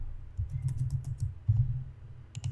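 Quick bursts of typing on a computer keyboard, several clusters of light clicks close up and fairly quiet, with a short pause in the middle.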